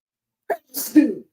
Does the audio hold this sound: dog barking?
no